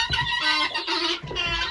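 Hens in a chicken coop, including a broody one, cluck and squawk in short agitated bursts at close range, with no talking.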